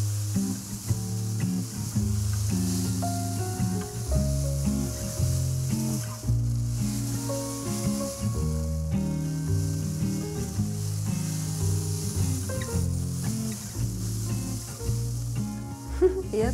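A very thin supermarket plastic bag, the kind used for zucchini and eggplant, is rustled steadily to mimic ocean waves, making a continuous soft crinkling hiss over tonal background music for the full stretch.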